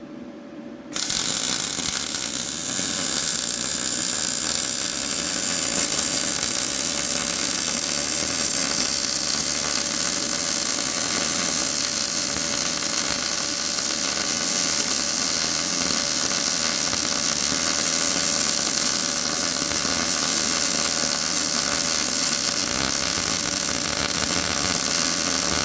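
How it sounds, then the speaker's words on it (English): Continuous loud arc welding on a truck frame during an S10 crew cab build, a steady harsh crackling buzz that runs without break for the whole stretch, close to the work. "Welding."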